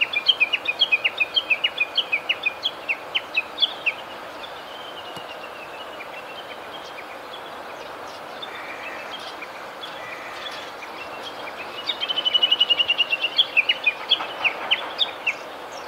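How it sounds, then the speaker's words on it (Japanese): Japanese bush warbler (uguisu) giving its rapid repeated valley-crossing call, a string of quick sharp notes at the start and again near the end, with quieter outdoor ambience between. "谷渡りと呼ばれるね、この鳴き声もよく知られているんですけれども"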